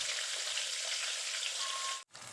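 Cornstarch-coated mackerel frying in oil in a pan, a steady close sizzling hiss that cuts off briefly near the end.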